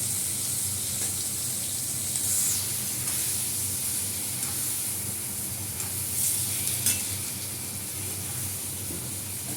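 Potatoes fry with ginger paste, turmeric and chilli powder, giving a steady hissing sizzle broken by a few bursts of stirring and scraping in the pan, close and continuous with no talking.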